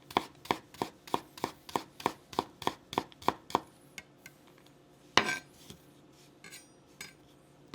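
Garlic cloves being smashed and chopped with a knife on a cutting board for homemade chili oil: a quick, steady run of about a dozen sharp close knocks, then a pause, one heavier smack and a few scattered taps.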